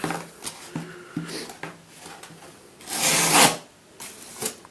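A SOG spring-assisted knife blade cuts and tears through material with repeated raspy rubbing strokes, building to a louder, harsher tearing burst near the end, close up with no talking.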